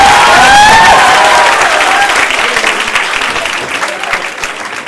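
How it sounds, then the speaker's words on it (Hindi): Applause for a visiting energy minister at a student address, a dense, steady clapping from a large audience that gradually thins over five seconds, with a few faint voices underneath. "इतनी तालियां बजा के एक बार दोबारा माननीय मंत्री जी का"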